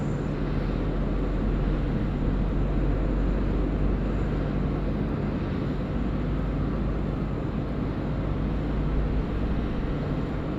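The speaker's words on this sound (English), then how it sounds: "We've got Thai Airways now dropping it in, runway 34 left." Thai Airways airliner landing on runway 34 left at Sydney Airport, a broad, steady low roar of jet engines throughout, heavy and constant at a distance, with no talking.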